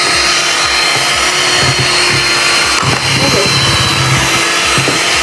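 Electric mixer beating waffle batter in a bowl, a loud continuous motor whine with steady rhythmic churning underneath, running without pause and close up.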